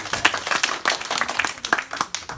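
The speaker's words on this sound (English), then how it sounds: "give her a big round of applause." A short burst of applause, scattered hand claps from a small group, brisk and uneven, with no talking.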